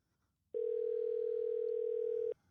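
A telephone ringback tone sounds on an outgoing call before it goes to voicemail: a single steady electronic tone lasting nearly two seconds, clear and alone, with quiet before and after.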